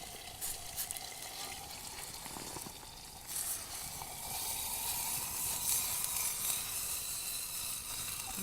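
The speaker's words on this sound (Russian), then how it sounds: "вода закипела" Water coming to a boil in a pot on a campfire, a steady hiss and soft bubbling that grows louder and denser toward the end, heard alone without talk.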